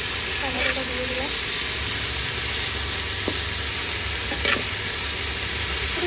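Tomato fries in a hot pan with a steady, close sizzle and hiss, broken by a few light clinks and stirring sounds.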